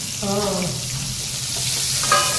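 Chopped onions fry in oil over a full gas flame, giving a close, steady hiss and sizzle. A voice briefly cuts in over it.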